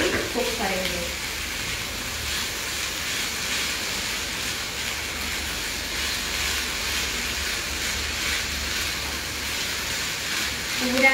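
Jaggery cooking in a pan over a slow flame, a steady soft sizzle and bubbling that holds evenly throughout at moderate loudness, with a faint brief clatter near the start.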